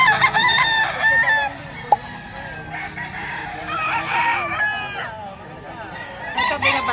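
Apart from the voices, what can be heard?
rooster crowing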